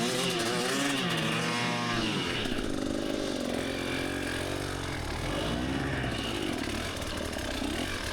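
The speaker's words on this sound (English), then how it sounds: "Usually I wouldn't rev my bike out a whole bunch like that" A dirt bike engine revving hard while stuck on a steep hill, loud and close, rising and falling in repeated high-pitched whines with sustained throttle throughout.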